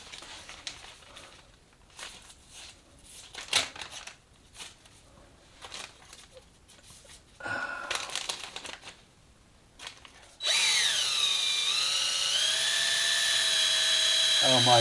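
A power drill bores into a soft red brick wall and its grout, arriving after scattered handling knocks and shuffling as a loud, sustained whine whose pitch bends and wavers steadily to the end.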